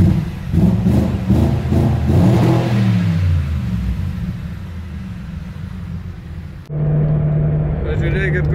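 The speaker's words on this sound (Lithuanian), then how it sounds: "BMW N62 variklis, tai žiauriai gražiai dirba iš tikrųjų" A BMW N62 V8 engine runs and revs, pulsing roar rising and falling in a few quick bursts, then settling into a steady rumbling idle, loud and close, with someone talking at the end.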